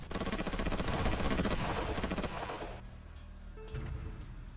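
Rapid, dense bursts of gunfire and artillery from the strategy game Supreme Ruler Ultimate, loud and continuous at first, then thinning into fainter rumbling and scattered shots.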